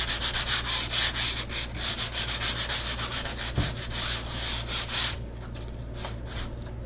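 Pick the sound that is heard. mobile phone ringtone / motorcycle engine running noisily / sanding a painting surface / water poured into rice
sanding a painting surface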